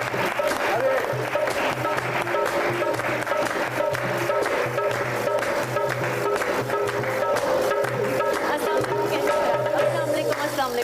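A studio audience claps loudly and continuously at a television talk show, with steady dense applause that sits beneath background music throughout.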